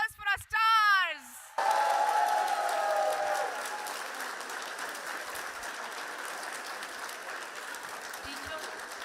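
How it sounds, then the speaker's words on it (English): Parents in a school hall give a big round of applause for Grade 6 performers at a cultural day. A short burst of amplified voice comes first, then loud, sustained clapping that slowly fades but continues to the end. "Parents, a huge round of applause for our stars."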